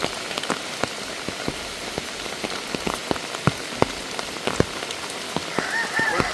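Heavy rain falls outdoors in a garden, a steady wash of rain with sharp individual drops tapping close by throughout.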